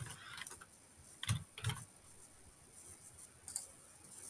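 Keys tapped on a computer keyboard while entering text into a form field, a few sparse, quiet clicks in short bursts with pauses between, no talking.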